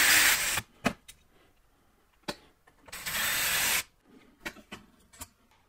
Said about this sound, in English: So I'll drive these last screws into place.